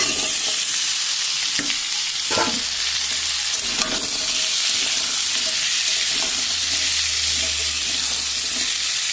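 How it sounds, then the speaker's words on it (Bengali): Cut papaya and potato pieces stir-fry in a pan for a vegetable curry with dal, giving a continuous hiss and sizzle broken by several scraping stirs and clatters of a utensil. "নাড়াচাড়া করে আমি দিয়ে দেবো এর মধ্যে কেটে রাখা পেঁপে আলু"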